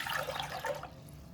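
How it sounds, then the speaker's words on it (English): Water poured into induction-safe cookware, a splashing, trickling pour that is moderately loud for about a second before easing off. "I'm going to add water"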